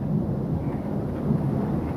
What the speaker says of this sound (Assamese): কি বতাহ, কি বৰষুণ বে, ধুমুহা বে